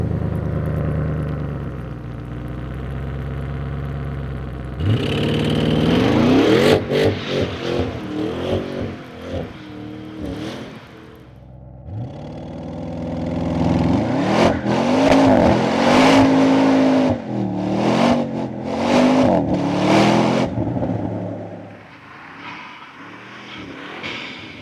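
A 2025 Audi RS7 Performance engine idles steadily, then erupts into loud, close revving with sharp rises and falls, settles back, and climbs again through several hard, raspy throttle blips before easing off to a quieter idle.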